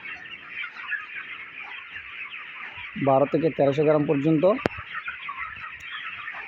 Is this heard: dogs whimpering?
no